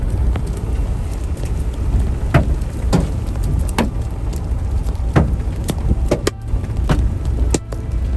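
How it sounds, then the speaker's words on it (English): Baseball-sized hail falls during a Texas tornado, with sharp, irregular impacts cracking close by over a continuous roar of rain and wind. "I'm repositioning as baseball-sized hail begins falling."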